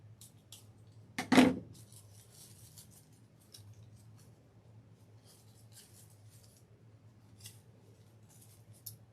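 Scissors make a single sharp, close snip while a simple bridal bouquet is assembled, followed by faint rustling and light handling sounds over a low background hum.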